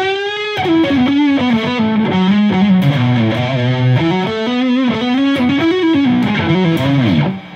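Electric guitar played through a Caline Enchanted Tone overdrive pedal with all controls set to the middle, giving a loud, sustained, driven melodic line that bends and slides with no talking.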